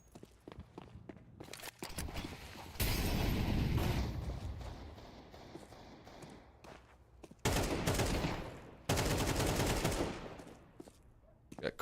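Desert Eagle pistol shots in a Counter-Strike match come as sharp bursts of gunfire mixed with running footsteps. The loud shots arrive in clusters and drop away in between.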